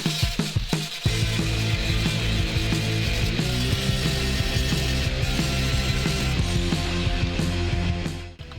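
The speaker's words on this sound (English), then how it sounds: "I'm trying to be careful just to grind the weld, not the metal" An angle grinder works over a weld seam on a car sill patch panel repair, a loud continuous metallic grinding with rattling, clicking texture that runs steadily for several seconds after a brief start and cuts off near the end.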